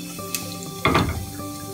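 Cumin seeds drop into hot mustard oil with bay leaves and a cinnamon stick, setting off a brief burst of sizzling and spluttering. It fades to a low, steady fry, near and with no talk.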